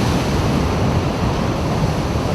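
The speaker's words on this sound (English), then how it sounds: "I'm probably about 25-35 feet from the ocean down here in Santa Cruz, California." Ocean surf washes onto the rocky shore at Santa Cruz, California, heard from about 25 to 35 feet away as a dense, steady roar with a little wind on the microphone and no speech.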